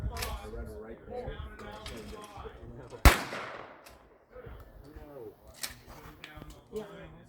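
A single sharp shotgun blast, from a 12 gauge or short-barrel 20 gauge, cracks out at an outdoor scout range midway through, while people talk and chatter before and after.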